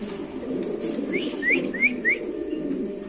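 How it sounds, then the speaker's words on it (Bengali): A male pigeon calls in a short series of four rising coos over a steady low background hum, fairly close and clear. "আমরা একটু নরের ডাকটা দেখাচ্ছি"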